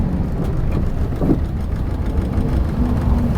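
Neoplan Cityliner bus with a six-speed manual gearbox, its heavy engine droning low and close with slight shifts in tone during a gear change.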